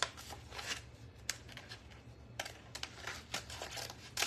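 Scissors snip around a printed word on paper, a few short crisp cuts and rustles spread across the moment, close and fairly quiet with a low hum underneath.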